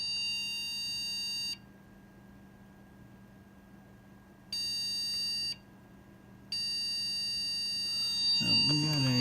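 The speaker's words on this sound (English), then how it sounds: "And we're still beeping." Power-on warning beeps from a trash-picked HP desktop PC: a long tone, a pause, then a shorter tone and another sustained one, loud and steady, with a brief voice and handling noise at the end.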